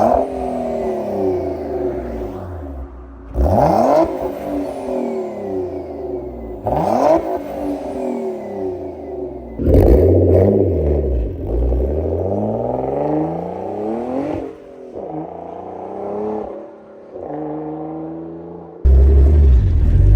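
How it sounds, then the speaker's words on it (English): A 570 HP twin-turbo Infiniti G35 coupe engine cranks and fires up, then revs repeatedly in loud bursts, settling between throttle blips into a deep, rumbling idle. "Let's start it up and let's see how it sounds."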